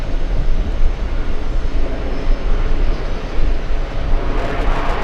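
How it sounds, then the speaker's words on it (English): A Delta airliner arriving at JFK from Madrid roars past as a continuous broad engine rumble and rush, loud and steady throughout with no talking. "It's Delta 127 flying in from Madrid."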